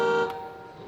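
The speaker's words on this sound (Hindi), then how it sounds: "हॉर्न भी अवेलेबल है" A battery-operated Mercedes 4x4 kids ride-on toy car gives one short electronic horn beep, a steady tone lasting about a quarter second, followed by a fading tail and quiet room noise.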